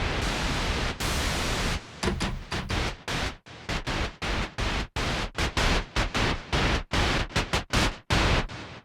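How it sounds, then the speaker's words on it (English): Pink noise from a vintage 1979 Minimoog synthesizer hisses loudly, first as a steady wash, then chopped into rapid, uneven bursts separated by short silences, with no talking. "Pink noise, on the other hand, is a narrower part of the spectrum."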